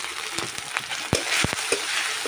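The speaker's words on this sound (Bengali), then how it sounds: "রসুনটাকে একটু ভালো করে ভেজে নেব" Garlic paste sizzling in hot oil in a pan with ginger, with a steady frying hiss and a few sharp scraping stir strokes, close and moderately loud, no voices.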